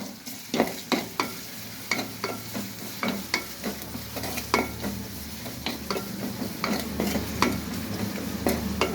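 Lentils for chotpoti dal fry in a pan with a soft steady sizzle, punctuated by regular scraping strokes of a spatula stirring them, close and moderately loud with no talk.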